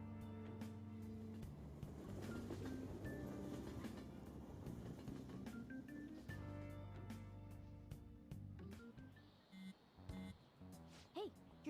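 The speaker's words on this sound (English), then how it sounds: "Oh, the train's here." A train pulls into a station in a Persona video game, its rumbling, clattering rail noise running steadily beneath game music, with a voice speaking over it.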